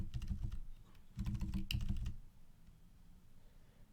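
Rapid clicking on a computer keyboard and mouse during animation work, two quick bursts of close, dense key and button taps separated by a short pause, then quiet room tone.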